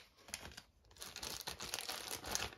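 A small plastic packet of ant farm accessories crinkles continuously close by, a busy, rustling crackle that swells and eases without any talking.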